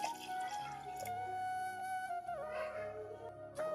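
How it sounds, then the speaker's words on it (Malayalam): A cup of water pours steadily into a pan of prawn curry masala nearby, a trickling, gurgling flow with a faint ringing tone and occasional drips, no talking. "അതിലേക്ക് ഒരു കപ്പ് വെള്ളം ഒഴിക്കുക"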